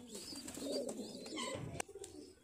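Bajre pigeons coo softly in their coops, low murmuring calls rolling together at a quiet level, with a few faint clicks and flutters.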